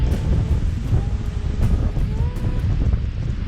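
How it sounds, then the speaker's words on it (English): Strong headwind buffeting a microphone on a bicycle ride along a rail trail in Australia, a loud steady low rumble roaring throughout with no talking. "But I really wish this wind would go away, or be at my back."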